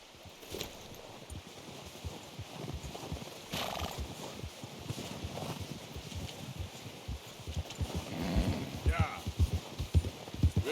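Horse hooves clip-clopping in Red Dead Redemption 2 during a hunting trip, soft irregular footfalls with snorts and shuffling under wind, fairly close, with brief voices.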